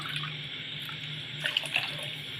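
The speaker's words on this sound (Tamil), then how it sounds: "அதாவது 4 டம்ளர் தண்ணி நான் ஊற்றுறேன்" Water poured into a pot for cooking rice and mung beans, a soft steady stream with a few brief splashy trickles, fairly quiet and heard alone.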